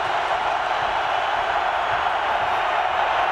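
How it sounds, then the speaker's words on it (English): A packed stadium crowd roars steadily at a 1998 Minnesota Vikings home game against Tampa Bay. The cheering forms a dense, continuous wash of noise with no breaks. "Listen to this crowd, Sam."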